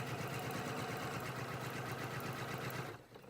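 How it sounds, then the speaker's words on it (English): Sewing machine running steadily as it stitches a seam with a quarter-inch presser foot, a close, even mechanical whir holding for about three seconds before stopping abruptly. "now I'm going to start sewing, and I'm going to sew here all the way through with my 1/4 inch foot"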